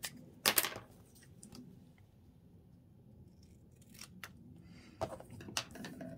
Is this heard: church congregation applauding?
no